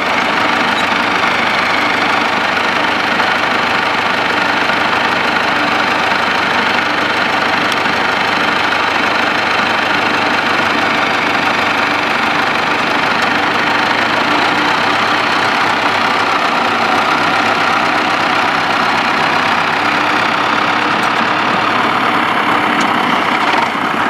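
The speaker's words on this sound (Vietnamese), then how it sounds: "Nghe máy nổ im không?" A Belarus 572 tractor idles steadily, heard close up over a long stretch, its diesel engine giving a constant knocking drone with a dense, even texture.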